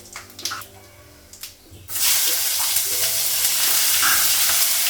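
Whole spices such as five-spice mix and cardamom hit hot oil for a Bengali fish curry, bursting into a loud, steady broadband sizzle after a quiet start with a few light clinks.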